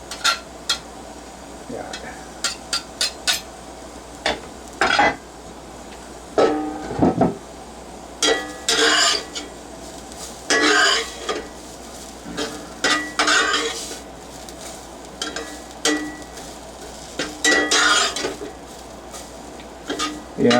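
Garlic drops into a lightly oiled cast iron pan and is stirred, giving intermittent sharp clinks and scrapes of utensil on metal over a faint sizzle, with a brief spoken word.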